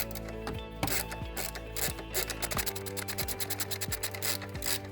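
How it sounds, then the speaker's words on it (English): A wrench loosens the drive belt adjuster on a Hyundai i30 engine, giving rapid repeated ratchet clicks in quick bursts, close and clear, with no talking. "So as I loosen this, the belt is going to come loose."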